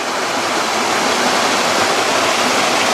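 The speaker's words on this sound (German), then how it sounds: "Hier sieht man auch das Wasser, wie es oben da aus den Felsen oder zwischen den Felsen her runterkommt." Water pouring down between rocks at a waterfall in the Okertal valley, a loud, steady, close rush of white noise that fills the whole stretch with no voices.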